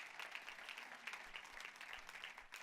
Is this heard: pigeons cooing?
no